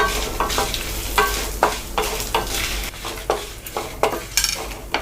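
Dried red chillies and curry leaves frying in hot oil, a continuous sizzle punctuated by regular scraping strokes of a spoon stirring against the pan, close and fairly loud.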